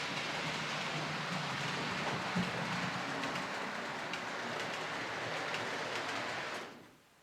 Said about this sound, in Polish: mój pociąg specjalny zatrzymał się już tutaj przy peronie